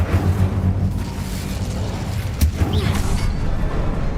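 Incendio fire spell cast in Hogwarts Legacy, a loud burst of flame with a sharp whoosh partway through, set over a continuous low rumbling game soundscape, with no talking.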